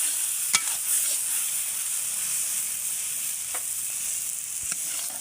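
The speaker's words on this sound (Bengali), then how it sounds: "তো আর কিছুক্ষণ একটু নেড়ে চেড়ে নেবো" Gourd leaves with dried chapa shutki fish being stirred in a pan, a steady close frying hiss with a few sharp spoon clinks against the metal, no talking.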